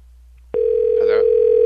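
A telephone keypad sounds a single steady dialing tone held for about a second, loud and close, with a brief voice murmuring over it.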